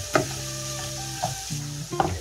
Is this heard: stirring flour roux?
yes